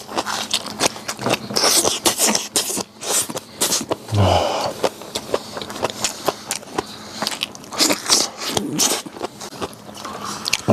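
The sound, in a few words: chewing crunchy pig ear cartilage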